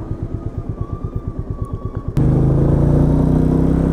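A Royal Enfield Meteor 350 single-cylinder engine idles with an even pulsing thump, then the bike drops into first gear with a sudden jump to a fuller, louder steady drone, close up with no talking.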